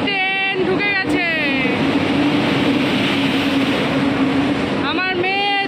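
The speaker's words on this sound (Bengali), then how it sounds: "এই যে আমাদের ট্রেন ঢুকে গেছে" The Tebhaga Express pulls into a busy station with a loud rumble and rising and falling tonal whines from its horn or brakes, while people talk over it nearby.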